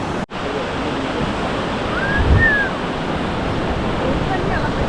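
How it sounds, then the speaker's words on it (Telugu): Waves surge continuously onto a Karnataka coastal beach where a river meets the sea, a loud, broad rushing roar that swells near the middle, with faint voices underneath. "క్రేజీ అసలు ఆ అలలు చూడండి."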